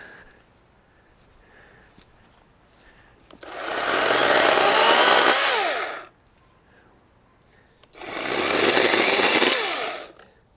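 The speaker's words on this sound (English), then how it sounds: "one thing I noticed is the chain speed is really good. It's fast like a gas saw." A Greenworks Digipro 16-inch 40V battery chainsaw cuts logs in two loud, sustained bursts of high-pitched whine of about two seconds each, separated by quieter idle gaps.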